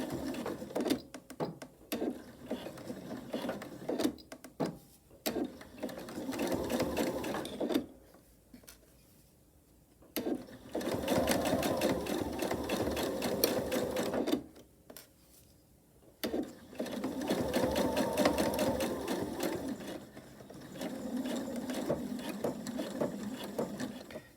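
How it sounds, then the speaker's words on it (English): A sewing machine stitches a quarter-inch seam on a travel tissue cover, running in several loud rhythmic bursts with brief quiet pauses between them, close up and alone. "I'll take it to the machine. I'll sew again 1/4 inch seam allowance here and here."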